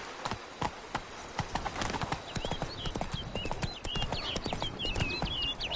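Roach the horse's hooves clip-clop in a steady galloping rhythm across ground in Witcher 3: Blood and Wine, close and continuous, with faint game music and high birdlike tones drifting in the background.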